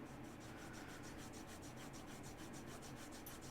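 A folding knife is polished on a leather strop with quick, even back-and-forth strokes, a faint, soft brushing rhythm repeating steadily throughout.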